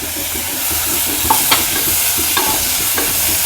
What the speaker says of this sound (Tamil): இது நல்லா வதங்கி வர வரைக்கும் வதக்கிக்கலாம்.